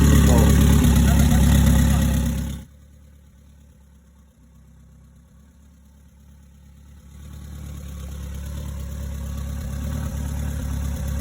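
Rebuilt street-tuned car engine idling loudly with a low, steady rumble, cutting out abruptly, then after a quiet gap building back into a steady idle drone.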